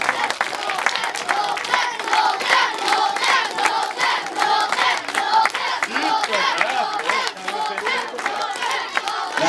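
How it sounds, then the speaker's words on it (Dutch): A crowd applauds and cheers for a newly installed children's mayor at a municipal event in the Netherlands, with loud, steady clapping and some shouts lasting throughout. "Applaus voor Lotte"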